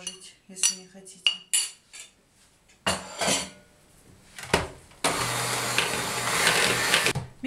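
An electric mixer beats an egg mixture for an Easter cake. Scattered clinks of bowl and utensils come first, then a steady, close whirring drone fills the last few seconds.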